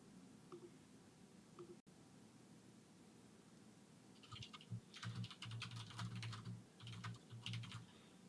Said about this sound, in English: We hear Steve typing now.